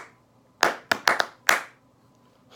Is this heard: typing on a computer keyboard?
no